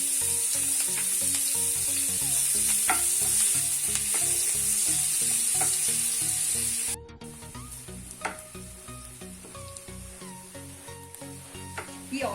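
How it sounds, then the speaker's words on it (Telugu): Sliced onions frying in oil and butter in a pan, a loud hissing sizzle that drops to a quieter crackle with stirring scrapes, close up, with no voices. "ఈ ఆనియన్స్ కలర్ మారేంత వరకు వేయించుకోవాలి"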